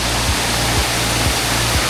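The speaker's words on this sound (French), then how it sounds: "C'est quand même fou de se dire que cette grande cascade, ça part de tout petit ruisseau" Large waterfall in Phong Nha, Vietnam, fed by a small stream, a steady loud broadband roar of falling water, continuous and unbroken, with no voices.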